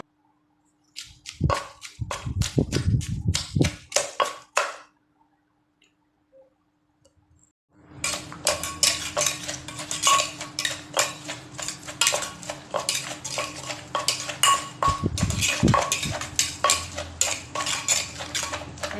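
Pestle pounding a Thai green papaya salad with chillies in a mortar, with quick wooden knocks and clatter, a short burst followed by a pause and then steady loud rhythmic pounding that runs to the end.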